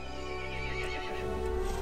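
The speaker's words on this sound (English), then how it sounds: "The horse grew angry and summoned the other monsters." A horse neighs in Resident Evil Village, a strained, wavering whinny that fills the moment, close and fairly loud over a low game ambience with faint hoof clatter, no voices.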